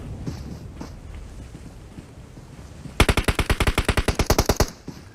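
Automatic gunfire in the PUBG Mobile battle royale game rips out as a rapid, even burst of a dozen or more loud shots after a stretch of low, rumbling in-game ambience.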